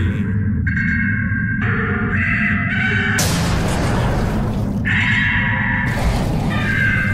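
A giant bird creature in BioShock Infinite lets out loud, harsh screeching cries in several long bursts over a heavy rumbling game soundscape.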